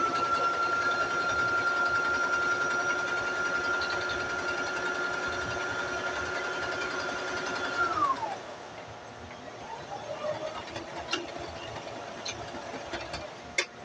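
A sewing machine runs steadily as it stitches back down the seam of a homemade ice pack. The motor whirs for about eight seconds, then slows and stops, leaving a few faint clicks and handling noises.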